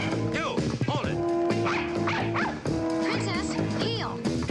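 A dog barks and whimpers in a scene from the classic TV mystery series McMillan & Wife, sharp yips and whining cries close by, mixed with overlapping voices and busy background sound.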